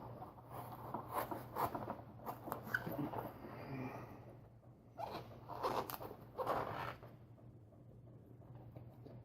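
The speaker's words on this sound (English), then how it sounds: "let me figure out a good place to stick a knife in here to cut through all this tape" A knife slicing through heavy layers of packing tape on a parcel box, giving soft scratchy rasps and tearing scrapes in uneven bursts, faint and close up, with no voices.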